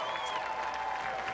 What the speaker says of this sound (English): Let's have a nice round of applause for him,